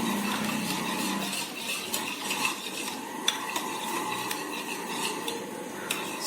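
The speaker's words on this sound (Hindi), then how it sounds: "इसको अच्छी तरह से मिक्स कर लेंगे" A chocolate cake mixture with milk powder is stirred in a bowl: close, continuous swishing and scraping, punctuated by light clinks of the utensil against the container's side, with no talking.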